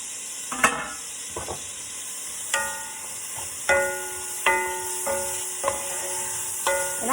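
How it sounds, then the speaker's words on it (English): Onion frying in melted butter over medium heat for a sausage, potato and green bean casserole, a quiet steady sizzle broken by several metallic clinks and scrapes of a utensil against the pan. "Put in the onion."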